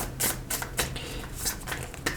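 A few crisp, papery riffles and soft taps come close up in quick uneven bursts, the rustle of tarot cards being shuffled by hand, with no voices.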